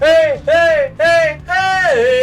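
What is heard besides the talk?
No distinct noise like a dog, phone or traffic.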